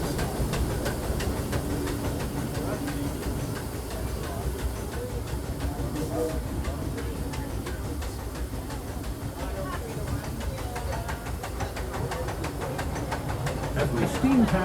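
Steady rumbling and hissing of the Disneyland Railroad steam train rolling along at night, a constant mechanical chug and clatter with muffled voices faintly underneath.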